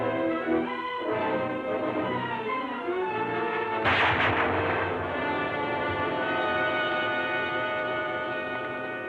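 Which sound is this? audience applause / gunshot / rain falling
gunshot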